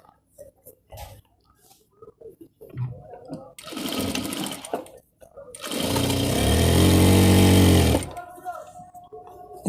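A sewing machine runs hemming stitches along the side seams of a salwar, in short loud close bursts building to a long steady run, with a voice speaking in the gaps.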